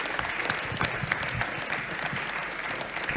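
Conference audience applauding, a short burst of dense clapping from a moderate-sized crowd, steady and fairly distant throughout.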